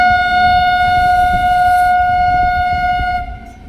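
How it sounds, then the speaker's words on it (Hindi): A Chauri Chaura Express train pulls into Belthara Road railway station in fog, sounding a loud, sustained, steady horn tone that holds for several seconds before fading out. "तो फाइनली हमारा अराइवल हो रहा है बेलथरा रोड रेलवे स्टेशन पे"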